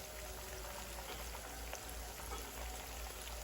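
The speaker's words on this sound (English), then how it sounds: "Well, they're in the frying pan, starting to fry." Frog legs fry in a frying pan, giving off a soft, steady crackling sizzle that runs the whole time with no one talking.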